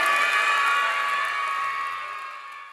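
An audience claps and cheers after a performance by a disabled and non-disabled arts troupe, a broad wash of crowd noise that stays full at first and then gradually tapers off.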